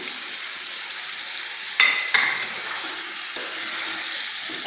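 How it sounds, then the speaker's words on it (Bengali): Fried broiler chicken and potatoes stir-fry in masala, a continuous close sizzle broken by a few sharp clinks of a utensil against the pan. "এখন মাংসটা আর আলুটা ভালোভাবে কষিয়ে নিব।"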